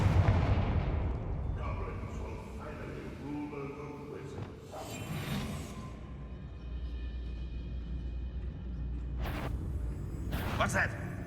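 A Confringo fire spell explodes in Hogwarts Legacy with booming, crackling blasts over a rumbling low undertone, loud and dense throughout, with a few sharp bursts near the end and speech mixed in.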